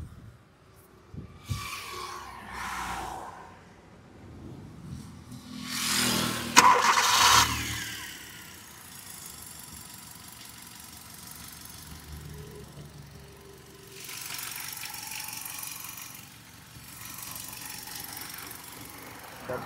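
A car engine cranks and fires with a loud surge, then settles into a steady idle that continues for many seconds, with a few shifts in revving and no speech.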